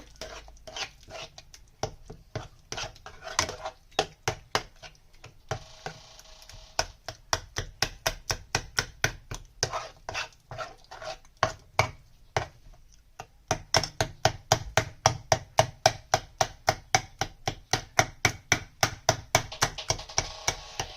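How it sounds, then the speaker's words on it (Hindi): Roasted eggplant mashed with a spoon in a pan, a long series of sharp, rapid rhythmic taps and pressing strokes, close and fairly loud, coming in quick bursts with brief pauses. "चम्मच से ये करेंगे तो इसकी जो स्किन है वो अच्छे से मैश हो जाएगी"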